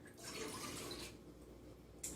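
Broth being poured into a cooking pot with rice, a steady close liquid splash for about a second that then settles into a softer trickle.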